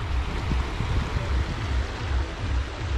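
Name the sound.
water flowing in stream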